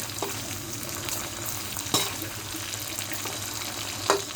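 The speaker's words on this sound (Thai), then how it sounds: "ทอดหมูชิ้น" Pieces of pork fry in a pan with a steady crackling sizzle, broken by a few louder clinks and scrapes of stirring.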